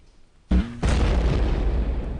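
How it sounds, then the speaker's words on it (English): A grenade explodes in the LindenWorld video game: a quiet lead-in, then a sudden sharp blast that swells into a heavy, rumbling boom and sustains loudly to the end. "We spent a lot of time dropping grenades on the land to terraform."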